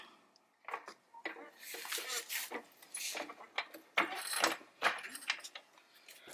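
A car jack is worked by hand to raise a vehicle, giving irregular ratcheting clicks and mechanical clanks in short bursts, near and moderately loud.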